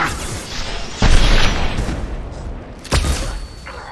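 Explosions in the video game Mass Effect 2, a flashbang scene: two loud booming blasts about two seconds apart over a continuous din of gunfire and combat noise.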